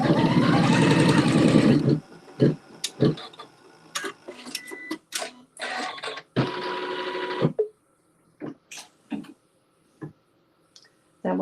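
Sewing machine stitching a tack down on a quilt seam, a close two-second run of steady whirring followed by scattered clicks, handling ticks and short stitch bursts, with intermittent talk.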